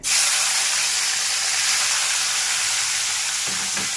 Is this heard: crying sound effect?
no